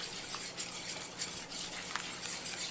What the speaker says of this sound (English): So I'm just going to whisk this all together.